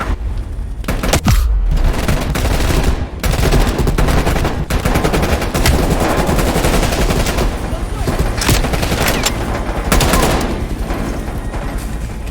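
Dense, continuous gunfire and explosions in the video game Call of Duty Black Ops Cold War, loud sustained automatic bursts with heavy booms throughout, with faint voices mixed underneath.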